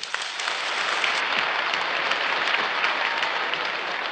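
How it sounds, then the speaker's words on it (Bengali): An audience at a dealer and customer gathering claps loudly and steadily, a dense wash of applause that holds at an even level from start to finish with no talk over it. "তাই তাদের জন্যে একটা করতালি দিব জোরে জোরে"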